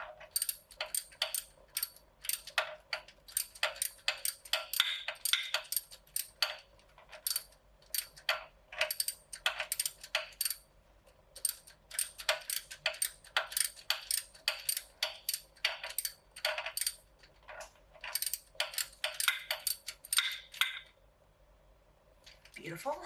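Short socket ratchet tightening sway bar end links on an Integra GS-R, rapid close clicking bursts repeated in quick runs with brief pauses, no talking.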